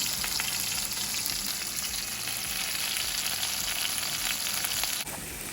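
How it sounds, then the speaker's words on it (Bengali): A whole rui fish sizzles steadily in hot oil in a home kitchen pan, a dense, even crackle up close with a faint high whine that stops just before the end. "এই পাশে এই যে মাছ ভাজা চলছে একটা রাউন্ড হয়ে গেছে"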